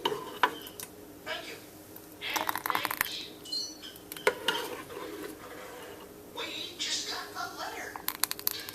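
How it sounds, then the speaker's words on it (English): Plum jam is ladled into glass canning jars, giving intermittent clinks and scrapes of a ladle against glass and pot under ongoing talk. "Take your ladle. Okay, and then I'll just start spooning it in the jars."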